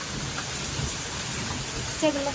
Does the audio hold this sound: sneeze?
no